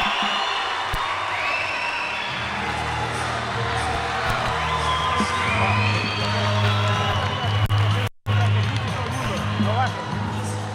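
A large crowd at a boxing match cheers and claps in a loud, continuous roar after a technical knockout, with an announcer's voice carrying over it.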